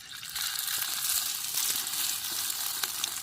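An egg-dipped bread patty stuffed with fish frying on a hot griddle, giving a steady close sizzle with faint crackles and light spattering throughout, and no voices.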